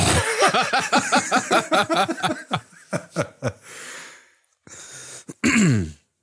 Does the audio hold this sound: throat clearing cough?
yes